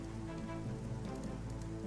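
Rain falls steadily in the naval strategy game Strategic Mind: The Pacific, a dense, even patter at moderate level with no talking and no other prominent sounds.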